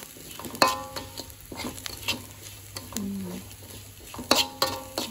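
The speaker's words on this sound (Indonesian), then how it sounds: "Ini jadi digoreng osek." Food being stir-fried in a pan, with brisk metallic clinks and scrapes of a utensil against the pan over a faint sizzle, close by, with a brief low voice in between.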